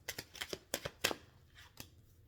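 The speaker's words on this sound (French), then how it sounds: "je vais mettre les cartes comme ça" Tarot cards slapped down one after another on a table for a Sagittarius love reading, a quick run of crisp dry flicks and taps, close and fairly quiet, with no talking.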